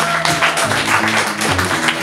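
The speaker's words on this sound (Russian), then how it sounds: "Ребят, давайте хлопать." Concert audience applauding, a dense steady wash of clapping with music tones sounding beneath it.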